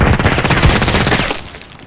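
In the shooter game Contract Wars, an H&K 416c rifle fires a fast run of loud, close gunshots that blur into a burst, then cut off and leave a brief fading tail.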